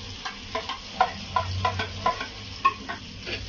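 Garlic sizzles in a hot pan while a utensil stirs it, giving a soft frying hiss broken by regular scraping taps about three times a second, close and alone.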